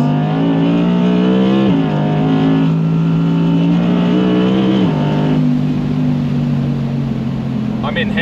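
An Audi R8 V10 rear-wheel-drive Performance revs hard on a closed private road, its loud, sustained engine note rising and shifting pitch through gear changes, steady and close throughout.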